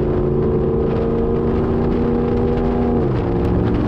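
A Ram 1500 pickup on 37-inch Nitto Trail Grappler mud-terrain tires cruises on the road, a steady loud drone of engine and tire hum with a slight pitch shift near the end.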